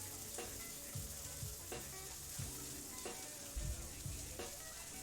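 Oil sizzles and crackles steadily around a burger frying in a cast iron pan, a dense close hiss with occasional louder pops, heard alone without talk.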